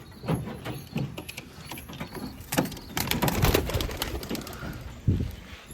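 Pigeons, including a crested fantail-type bird, coo in a busy loft with repeated low throaty calls and occasional wing flaps, fairly close and steady over ambient noise.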